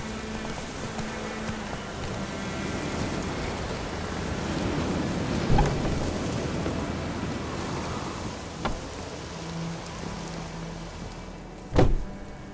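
Steady rain with low rumbles and a couple of sharp thunder cracks in The Witcher video game, a constant wash of downpour throughout and one loud close clap near the end.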